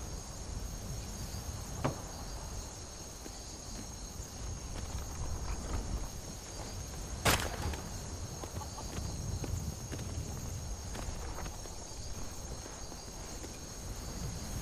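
Faint, steady clip-clop of horse hooves trotting in the video game Skyrim over a constant bed of chirping insects, with a sharp click or knock standing out midway.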